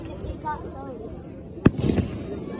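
A Fourth of July fireworks display at Old Natchez, one sharp loud bang followed by crackling bursts, heard beneath people chatting nearby.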